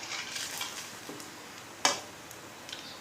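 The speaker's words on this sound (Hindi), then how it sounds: "तो चलिए इसे हम डालकर फ्राई कर लेते हैं।" Dudhori sweet batter, a Jharkhand milk-based treat, fries in hot oil over a low to medium flame, with faint bubbling, soft scraping of a utensil and one sharp clink partway through.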